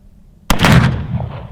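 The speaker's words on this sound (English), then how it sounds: "I got one more round. I'll aim for one of those little ones" One close, loud gunshot from a Remington Rolling Block rifle in 43 Spanish cracks suddenly out of near silence, followed by a short booming echo that fades.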